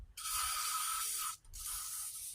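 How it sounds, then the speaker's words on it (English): Lubricant is sprayed from an aerosol can into a quick hitch, in two loud close hissing bursts: a longer one of about a second, a short gap, then a second burst. "we're going to spray some lubricant in there"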